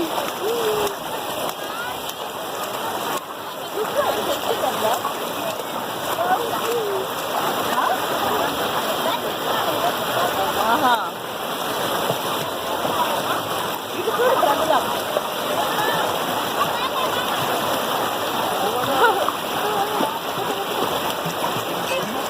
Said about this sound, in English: Here we are near Chaparai Waterfalls, that is 14 kilometers away from Araku Valley.